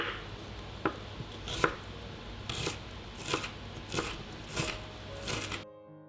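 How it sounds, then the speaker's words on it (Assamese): Knife chopping three small onions on a cutting board, a run of sharp, evenly spaced cuts with brief pauses, close and fairly quiet, no talking. "সৰু পিঁয়াজ 3টা লৈছিলোঁ আৰু মই এইদৰে কাটি লৈছোঁ।"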